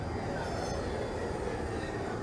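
A New York City subway A train from the Trainz Simulator 2012 game runs along the line with a steady loud rumble, rattling wheels and a faint squeal, continuous and close throughout.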